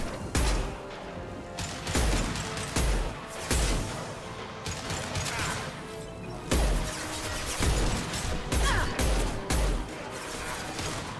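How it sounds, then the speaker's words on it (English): An impact shot fired in Mass Effect 2, heard as a run of sharp, loud bursts and crashes that repeat every second or so amid game clatter. "Firing an impact shot."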